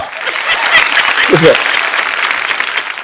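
A studio audience on a TV entertainment show breaks into continuous, fairly close applause, a dense patter of clapping that holds steady throughout.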